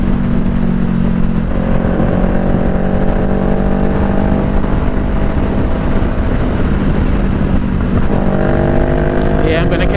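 Honda CBR500R parallel twin motorcycle riding in fourth gear, a steady loud engine drone with rising rev tones and constant wind rush throughout, the engine pulling harder again near the end.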